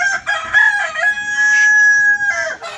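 A rooster crows loudly and close by on a Sonali poultry farm in Assam, one long drawn-out call with a second rising burst just after, standing alone without talk.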